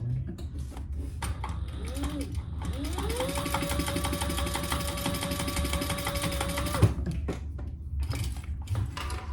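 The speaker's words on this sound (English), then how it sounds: "Bring that down about an inch, inch and a quarter. And let's stitch that in place." A sewing machine stitches a strap in place on a boxy crossbody bag, running in one steady mechanical burst of several seconds after brief stops and starts, with faint handling noise around it.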